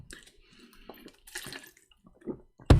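Water splashes and trickles in short, uneven bursts, as if poured into a container close by, ending in a louder gush.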